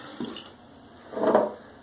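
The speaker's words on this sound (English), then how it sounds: "So I'm going to just get a little more water on my face here." Water is splashed onto a face while wet shaving with a Gillette Tech safety razor, heard as a soft short slosh followed by a fuller splash about a second later, close and alone.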